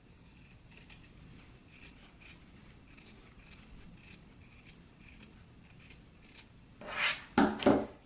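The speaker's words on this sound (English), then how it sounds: "now that I have it sewn on, I'm going to just trim it down just a little." Scissors trimming the sewn edge of skirt fabric, a quiet run of soft snips and rubbing cuts at an uneven pace, with two louder, sharper cuts near the end.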